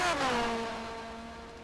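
Racing car in a motorsport video game, its engine failing mid-race, gives a single sustained engine tone with descending harmonics, fading slightly over under two seconds, no talk.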